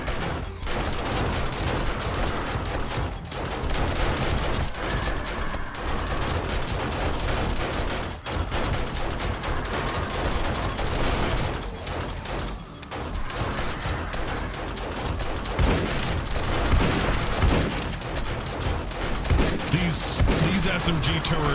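Dense, continuous automatic gunfire from SMG turrets during a Day 21 horde night in 7 Days to Die, loud and sustained with overlapping bursts and impacts, no clear talk over it.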